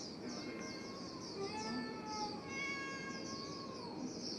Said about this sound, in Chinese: 是你在叫还是猫在叫？